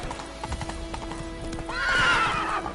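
Roach, the horse in The Witcher 3, gallops with quick thudding hooves, then lets out a loud, close, high whinny that rises and trails off.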